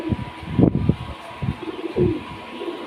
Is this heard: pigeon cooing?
yes